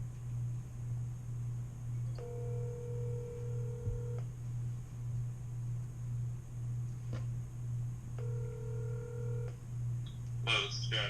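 A telephone line rings twice as a phone interview call is placed, each ring a steady two-second burst separated by silence over a constant low hum, ending with a few brief clicks and tones.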